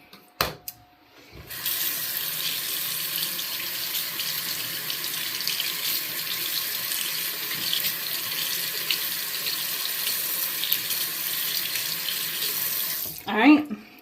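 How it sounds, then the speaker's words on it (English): Water running steadily from a faucet to rinse out a glue container, a loud continuous splashing flow that starts after a couple of brief knocks and runs for about twelve seconds before stopping. "I'm going to run it under some water again."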